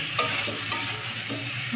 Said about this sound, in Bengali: তো একটু বেশি করে পেঁয়াজ দিচ্ছি, রসুন কেটে ভেজে নিচ্ছি